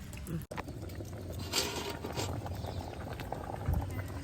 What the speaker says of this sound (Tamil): மரவள்ளி கிழங்கு அப்படி இது கொத்திக்குது